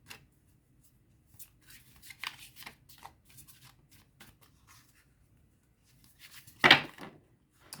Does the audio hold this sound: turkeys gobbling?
no